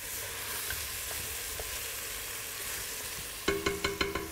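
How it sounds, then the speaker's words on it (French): Meat sizzles steadily in a hot pan, a constant crackling hiss, followed near the end by a few sharp clinking knocks. "اللحم يتقرسل. يتقرسل."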